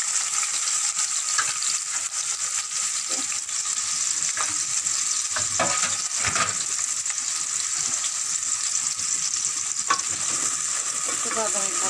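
Onions frying in a hot pan and being stirred, a steady close sizzle running throughout with occasional scraping strokes of the spoon and no talking.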